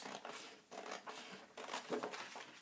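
Scissors cut scrapbook paper along a score line in a few close, crisp snipping strokes, each with a rustle of the sheet, with no one talking.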